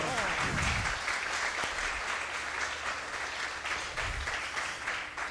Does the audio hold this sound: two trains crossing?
no